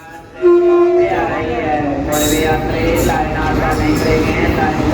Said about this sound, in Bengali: এই ট্রেন ঢুকে পড়েছে।